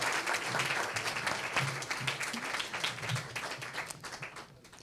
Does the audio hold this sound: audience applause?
yes